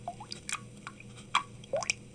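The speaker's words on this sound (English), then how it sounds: "pour out the broth" Broth is poured out onto a rock in a staged biblical scene, giving a few faint, short wet drips and splashes spread over about two seconds against a quiet background.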